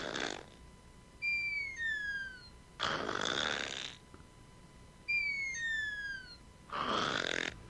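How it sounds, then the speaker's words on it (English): A porcupine snores in a repeating pattern: four loud, raspy breathing bursts, each separated by thin, high, squeaky whistling chirps, recorded close with no talk. "This is what a snoring porcupine sounds like."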